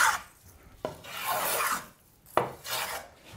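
A sharp block plane shaves wood on a skin-on-frame paddle in two long rasping strokes, each opening with a crisp bite, close and clear with no talking.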